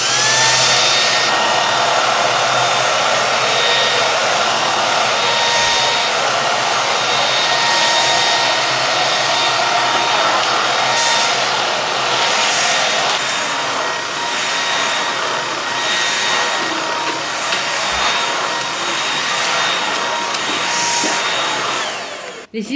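A vacuum cleaner with adjustable height set to maximum runs on a rug, a loud continuous whine and rushing airflow held steadily from start to finish with slight variations in pitch as it moves, no voices.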